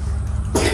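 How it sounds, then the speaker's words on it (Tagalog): A child gives a single short, harsh cough, close and loud, after a moment of low background noise. "Grabe rin yung ubo"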